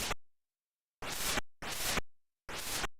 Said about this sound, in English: Oh, that's the noise of a snake.